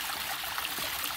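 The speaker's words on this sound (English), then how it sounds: "Small waterfall." A small waterfall trickles in a steady, even wash of running water, close and continuous with no voices over it.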